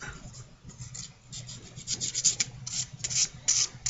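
A Sheffield razor blade is rubbed to remove rust, giving close, quiet, rasping back-and-forth scrubbing strokes in an irregular rhythm with no voices.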